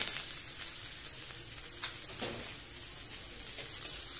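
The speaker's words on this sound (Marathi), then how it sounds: "आता कांदा झालाय तर मिरच्या टाकते बघा मी हिरव्या मिरच्या" Green chillies and onion frying in oil for a spinach dish, a soft, steady sizzle broken by a few light clicks and scrapes of stirring.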